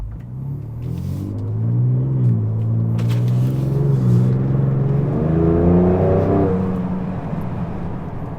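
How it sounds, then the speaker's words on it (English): A 2024 Ford Ranger Raptor's engine and valved exhaust rumble steadily while driving, rising in pitch as it accelerates through the gears, with a deep, sustained, fairly loud note and turbo noise. "Really, really great sounding engine, and again, that has the valved exhaust system as well."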